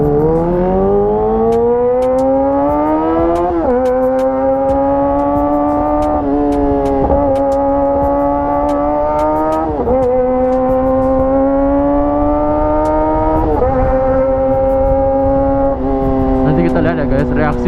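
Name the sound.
Kawasaki ZX-25RR motorcycle engine revving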